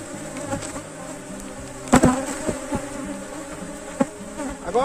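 A honeybee swarm hums at a hive in a continuous, dense buzz close by, with a few sharp knocks and taps against the wooden box breaking through.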